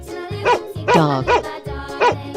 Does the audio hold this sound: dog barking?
yes